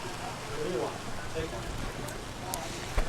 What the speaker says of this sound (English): Raining quite a bit now.